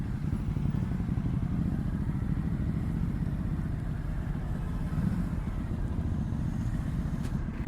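Ducati Hypermotard 950 base model, 2019, with a loud aftermarket exhaust, riding along as a steady low rumbling engine drone, continuous and close with constant road noise, and no talking.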